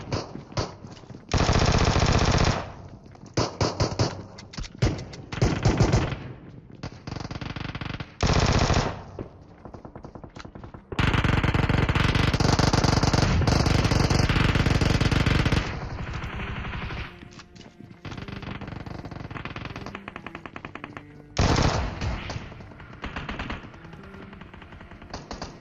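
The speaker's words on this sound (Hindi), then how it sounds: "अब यार यहाँ पे चारों तरफ से इतनी गंदी वाली फायरिंग हो रही है" Heavy automatic gunfire in the mobile battle-royale game PUBG Mobile, long loud bursts of machine-gun fire with pauses between, some volleys sustained for several seconds, no talk.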